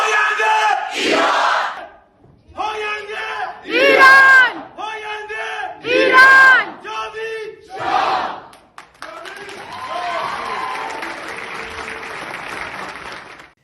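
Crowd at a monarchist rally shouting the slogan Javid Shah in rhythmic bursts, loud and close, with cheering and applause rising between chants and a sustained clapping roar at the end.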